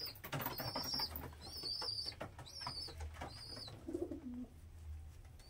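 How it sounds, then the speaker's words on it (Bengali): Pair of Kalshira pigeons cooing nearby, several soft repeated coos with a few short wing flutters, over a low background hum. "এই একজোড়া আমার কালশিরা পায়রা"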